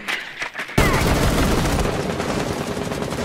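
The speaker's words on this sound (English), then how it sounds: "Where am I getting shot from?" Video game gunfire erupts abruptly after a brief quiet moment, turning into a dense, continuous burst of rapid automatic shots that stays loud and close.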